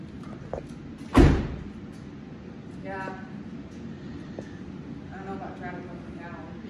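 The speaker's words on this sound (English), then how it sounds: "Shut the door." A single solid thud of a car door being shut near a pickup fitted with retractable DIY power steps, followed by low outdoor rumble and people talking.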